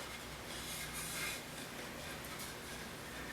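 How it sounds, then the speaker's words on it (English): Steady, faint rasping of sandpaper rubbed back and forth over mulberry wood, a continuous scratchy hiss with slight pulses of stroke rhythm. "I'm going to give it a sanding"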